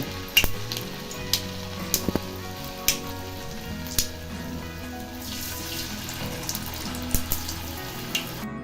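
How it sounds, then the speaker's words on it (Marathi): Alu vadi, colocasia leaf rolls, frying crisp in hot oil, a loud, close crackling sizzle with scattered sharp pops and spits throughout, heard alone. "तळून घ्यायचे"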